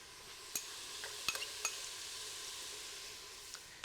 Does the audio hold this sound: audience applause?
no